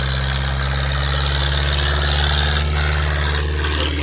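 A tractor engine runs steadily with smoke pouring from its exhaust chimney, a loud, continuous low idling rumble with constant vibration and no pauses, close by throughout.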